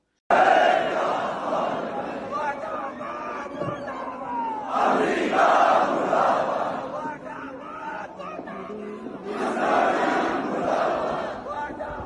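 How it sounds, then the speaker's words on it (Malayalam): A large crowd of mourners in Iran chants anti-American slogans in unison, loud and close, the massed voices surging in repeated waves with brief lulls between them. "അമേരിക്കൻ വിരുദ്ധ മുദ്രാവാക്യങ്ങളും ജനക്കൂട്ടം മുഴക്കുന്നുണ്ട്."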